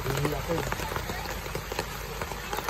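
Rain falls on a garden at Little Amsterdam in Cebu City, a dense, steady patter of drops hitting surfaces nearby, with faint voices mixed into the wash of sound.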